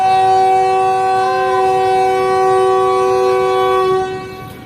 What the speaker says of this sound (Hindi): हमारी ट्रेन ने भी डिपार्टिंग वैसे ले लिया है अपना